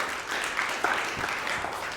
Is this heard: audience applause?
yes